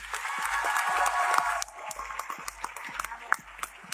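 Scattered clapping from ministers at a Mexican government session on judicial reform, dense and moderate for the first second and a half, then thinning to sporadic claps amid room noise.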